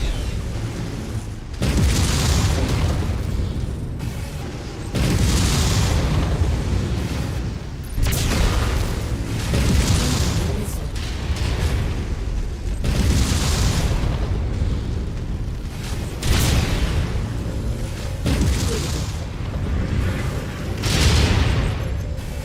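Missile explosions from MechWarrior 5: Shadow of Kerensky, a run of loud, heavy booms and bursts arriving in repeated waves, dense and continuous with no talking over them.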